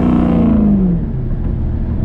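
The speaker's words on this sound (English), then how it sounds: "let's give it a little rev" A 2020–2021 Ford Mustang GT V8 revs loudly nearby in a single rising blip that falls away into a deep idle rumble, with no talking.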